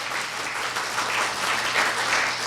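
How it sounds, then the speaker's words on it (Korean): An audience at a university speech contest applauds steadily to welcome a judge being introduced on stage, a dense, even clapping that fills the hall throughout. "박수로 맞아주십시오."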